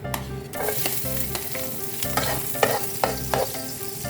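Garlic sizzles in hot oil in a pan for pork bas-oy, with repeated scraping stirs of a utensil over a steady frying hiss, close and fairly loud, no talking.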